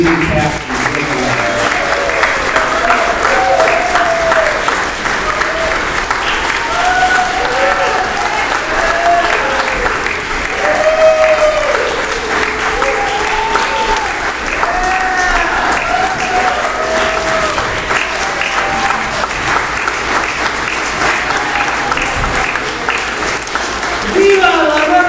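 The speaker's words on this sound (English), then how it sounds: "how about a big round of applause for this amazing cast?" A studio audience breaks into sustained applause for a cast on a live show, a dense, steady wash of clapping lasting well over twenty seconds, with cheers and whoops rising through it.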